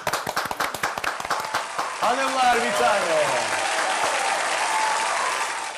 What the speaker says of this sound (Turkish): Kadınlara bir alkış gelsin